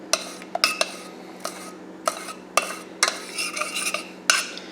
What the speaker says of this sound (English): Take it off the heat there just so you can mix it really good.